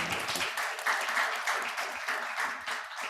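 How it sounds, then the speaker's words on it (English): Audience applause after a talk with a 2022 alumni fellow, a dense, steady wash of many hands clapping nearby for about three seconds, with faint voices mixed in underneath. "I think we'll have one more round of applause for our colleagues"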